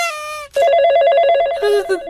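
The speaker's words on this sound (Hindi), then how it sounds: "दूर के रिश्तेदार का फोन है।" An old-style telephone rings with a bright, steady electronic trill in two close bursts after a voice. The ringing is loud and near.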